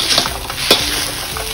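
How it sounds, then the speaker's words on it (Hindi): Fried chicken goes into a hot chow mein pan, a steady close sizzle with a sharp clatter of a utensil against the pan midway and light stirring scrapes. "अब इसके अंदर मैं ऐड कर रही हूँ जो हमने चिकन अपना फ्राई किया था ये इसके अंदर डाल दिया है।"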